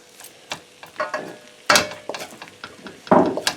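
Seafood egg noodles are tossed and stirred in a pan, giving a few sharp close scrapes and clatters over a faint sizzle in short irregular bursts.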